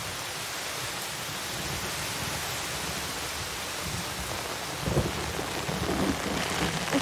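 Heavy rain pours steadily in the wild where hippos and buffalo gather, a dense close hiss with a low rumble that swells near the end.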